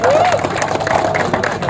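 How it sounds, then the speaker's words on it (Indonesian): Crowd noise with scattered clapping and cheering from spectators honoring the champions of the 2022 DKI Governor's Cup at PIK 2, Jakarta, steady and fairly loud, with a thin whistle-like tone near the start and voices mixed in. "Jadi tepuk tangan untuk para juara sekali lagi."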